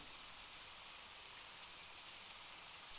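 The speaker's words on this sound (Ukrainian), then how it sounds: "Так, це шум дощу." Steady rain falling, a constant soft hiss of drops with no other sounds.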